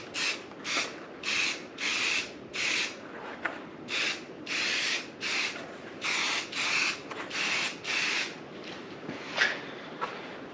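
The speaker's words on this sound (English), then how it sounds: "we used the black Rust-Oleum semi-gloss paint on both of our legs and the one brace" Black Rust-Oleum semi-gloss spray paint is applied in light coats to garden bench legs and a brace, giving about a dozen short, close hissing bursts in a steady rhythm with brief pauses and no talk.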